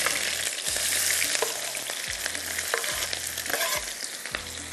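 Thick-sliced onions fry in hot oil with a loud, continuous crackling sizzle, while a spoon stirs and scrapes through them in a slow, regular rhythm.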